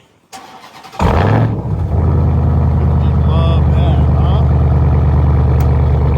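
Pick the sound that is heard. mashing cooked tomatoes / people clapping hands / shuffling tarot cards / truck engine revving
truck engine revving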